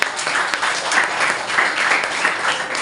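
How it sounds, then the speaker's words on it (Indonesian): A classroom audience applauds a student group after its presentation, a dense, even burst of many hands clapping together, fairly close and continuous without speech. "Kita berikan aplaus untuk kelompok"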